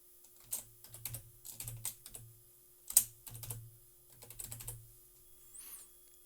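A username is typed on a computer keyboard, with light plastic keys clicking in quick irregular bursts, close and quiet over a faint steady hum, with one sharper key strike partway through.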